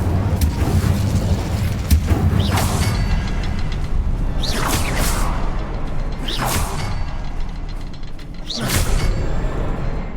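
Incendio fire spells are cast in Hogwarts Legacy, four loud bursts spaced a couple of seconds apart, each a bright whooshing flare of flame over a steady low ambient rumble.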